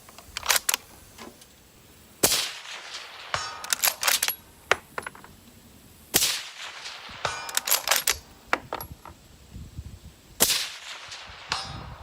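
A rifle fires through a CMMG Zeroed 30 suppressor: three sharp, muted shots spaced several seconds apart, each followed by mechanical clicks and rattles of the action and handling noise at close range.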